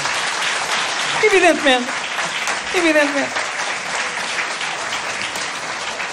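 Audience applause at a live fado comedy show in a Portuguese cultural hall, steady dense clapping throughout with a voice speaking over it twice.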